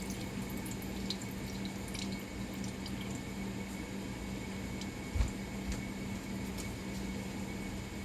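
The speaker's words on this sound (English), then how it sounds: "In the pot, we're going to drain the fruit." Juice from canned fruit drains into a pot in a thin, steady trickle. A faint hum runs underneath, and a single soft knock lands partway through.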